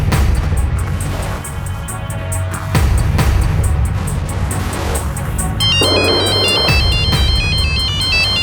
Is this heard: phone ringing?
yes